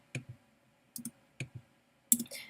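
Quiz answers being typed on a keyboard: a few quiet, separate clusters of key clicks with pauses between them, and no talking.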